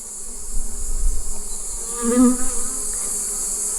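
Honeybees at an open beehive during comb inspection, a dense steady buzz of many insects close by, with a brief louder swell as a bee passes near, and no voices.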